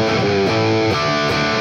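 A heavily distorted, high-gain electric guitar through Logic Pro X Amp Designer rings out in sustained, thick chords, loud and saturated with no talking.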